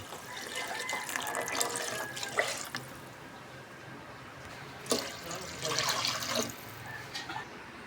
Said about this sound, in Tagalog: lagyan natin guys ng sabaw